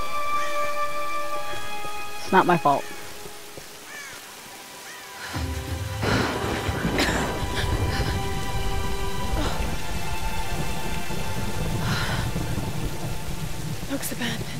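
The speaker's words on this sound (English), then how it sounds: "I think you should take shelter from the storm." Rain and thunderstorm ambience in a tomb-raiding video game, a steady wash of rainfall with occasional louder bursts, running continuously under music tones while a voice speaks briefly early on.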